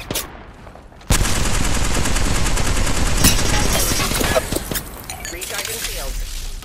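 Rapid automatic gunfire in Apex Legends erupts after a brief lull, a loud dense stream of shots with sharp cracks and clinking shell sounds, tapering into scattered bursts near the end.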